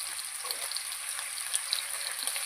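Garlic, green chili, ginger and tomato sizzling in a pan for fish curry, a steady bright frying hiss with faint scattered pops throughout, no voices.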